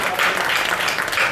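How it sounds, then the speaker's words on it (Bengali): An audience claps loudly after a Bengali song performance, a dense, even roar of many hands that carries steadily through the moment without pause. "চেতনায় রাঙা শ্রোতাদের জন্য জোরে হাততালিটা"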